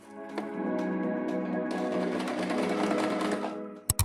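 A sewing machine stitches skirt fabric in one close, steady run of rapid whirring that lasts about three seconds, followed by a couple of sharp clicks.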